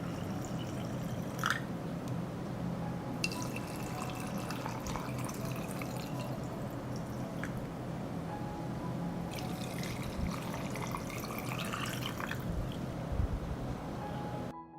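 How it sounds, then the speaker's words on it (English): Water from a tap filling a glass jar for home preserving with vinegar: a steady pouring hiss runs throughout, with a few brighter splashy stretches and clinks. "I fill the jar with water,"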